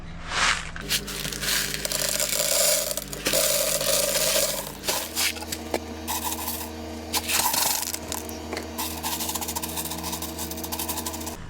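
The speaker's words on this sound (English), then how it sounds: "I'm going to do a drainage layer using these clay balls" Clay balls poured into a crested gecko enclosure as a drainage layer, a close, continuous clattering rattle and scraping of small hard pellets tumbling and settling, with brief louder rushes; no talk.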